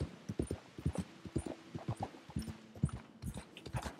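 Horse hooves walking in Red Dead Redemption 2, a steady clip-clop of close, distinct hoofbeats at an even walking pace throughout.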